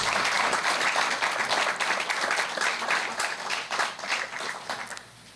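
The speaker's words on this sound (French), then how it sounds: "Est-ce qu'on peut applaudir pour ces 2 dames, je vous en prie?" Conference attendees applaud two women in a sustained round of clapping from a crowded hall, steady and full before tapering off near the end.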